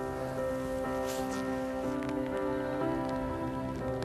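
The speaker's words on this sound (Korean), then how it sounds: "근데 이제 비가 내리기 시작하고 그래서 저기까지 갈 수 있을지 모르겠네요." Rain falls steadily in the mountains of southern Spain's Sierra Nevada, a constant close hiss of drops over a continuous background hum.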